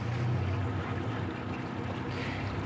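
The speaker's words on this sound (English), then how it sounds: "So what you see here, Grant, I'm going to come into this jetty on the joystick alone" Boat easing into a marina jetty under Yamaha Helm Master joystick control, a steady low engine drone with water wash, close and continuous throughout.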